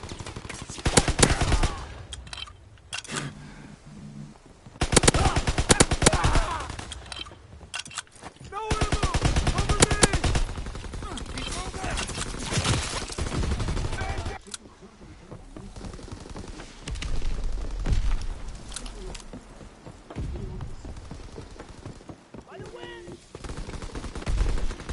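Call of Duty WW2 battle gunfire: repeated bursts of machine-gun and rifle fire with loud clusters of shots and quieter gaps, over a noisy combat background with shouted voices in places.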